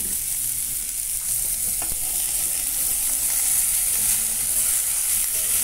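Zucchini sizzles steadily in a hot frying pan, a loud continuous crackling hiss close by, with faint occasional scrapes of stirring and no talk.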